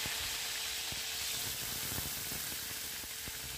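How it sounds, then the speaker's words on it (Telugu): Oil heating in a pan on a stove for tempering a coconut chutney, giving a steady soft hiss and faint sizzle with a few small crackles, close and continuous. "తాలింపుకి తగినంత నూనె పోసుకుందామండి"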